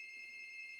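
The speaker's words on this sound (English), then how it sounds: "sorry about the ringing, it's my buzzer." A buzzer rings indoors as one continuous electronic tone, steady and fairly quiet, with no talking over it.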